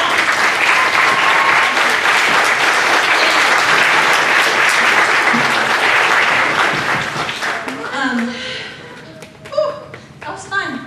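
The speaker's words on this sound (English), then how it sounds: "So let's give them a clap." A concert audience applauds a youth orchestra with dense, loud clapping that holds steady, then thins out and fades as scattered claps, thumps and voices take over near the end.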